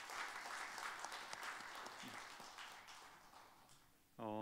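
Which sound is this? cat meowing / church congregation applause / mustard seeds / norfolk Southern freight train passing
church congregation applause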